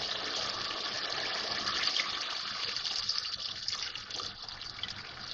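Water pours steadily into a cooking pot of browned mutton for a Punjabi palak gosht, a continuous gushing, splashing rush that stays loud and close throughout with no talking.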